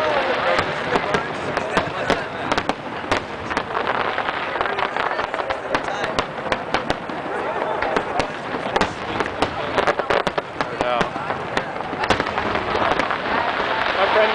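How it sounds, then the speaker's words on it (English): Fireworks bursting outdoors before the Texas Stadium implosion, a loud, dense, continuous crackle of pops and bangs through the whole stretch, with crowd voices faintly mixed in. "Up the fireworks."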